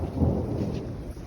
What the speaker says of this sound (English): That's the sound of thunder.